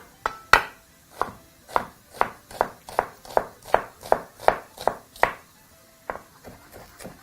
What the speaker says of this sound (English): we're going to start off by chopping up a white onion. Now this you want to chop as fine as you possibly can